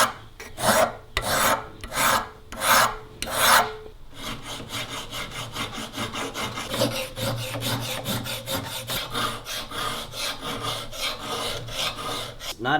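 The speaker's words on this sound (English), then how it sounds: "now we can start hand filing the bevels" Hand file rasping along the bevels of a forged spoon carving knife, with several separate slow strokes at first, then a fast steady run of short scraping strokes, loud and close with no talk.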